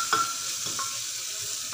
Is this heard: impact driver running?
no